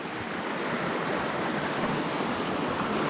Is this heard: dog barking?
no